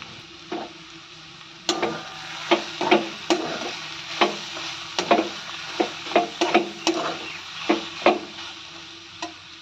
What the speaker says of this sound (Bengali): কপিতে একটু চিনি দিয়ে দেবো। ভালো করে মিশিয়ে দেবো।